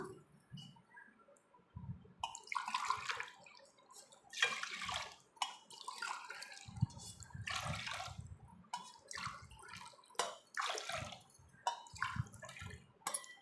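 Water is poured into washed rice in a pressure cooker for sweet pongal, coming in several uneven splashing pours with short pauses, close and fairly quiet.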